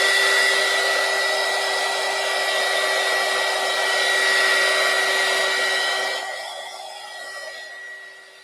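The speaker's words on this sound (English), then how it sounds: "Do you think this blow dryer is too noisy?" A blow dryer runs loud and close with a steady whirring hiss and a constant high whine for about six seconds, then switches off and winds down into quiet.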